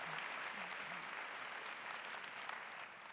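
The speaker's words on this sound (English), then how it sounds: "Let's give them a round of applause." Audience applause greeting a class of award winners at a ceremony, an even, fairly soft wash of clapping that carries on steadily and tapers at the close.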